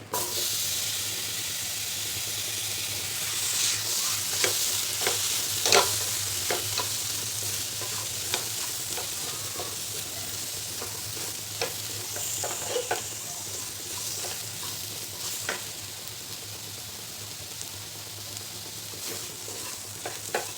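Potato pieces sizzle and fry in a hot pan for an onion-and-garlic-free festive vegetarian dish, with a steady hiss broken by repeated scraping stirs of a spoon, loud and close.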